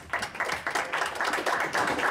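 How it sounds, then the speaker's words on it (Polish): Steady applause from a press conference crowd in an ice arena, a dense wash of clapping that carries on throughout without any voices over it. "I brawa dla Karoliny"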